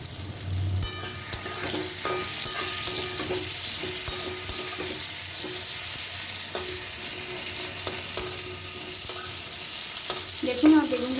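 Food sizzles and crackles steadily in a pan while hilsa fish curry with eggplant is cooked, a close, continuous frying hiss with light stirring clatter throughout and a brief louder scrape near the end.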